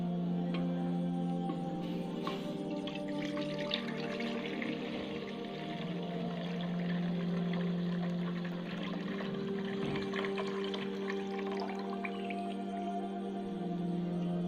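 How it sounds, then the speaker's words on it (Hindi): Milk poured into a pan while making carrot halwa, a steady close liquid stream with a dripping, trickling texture running continuously under a constant low hum, with no talking. "सबसे पहले इसमें दूध डालेंगे।"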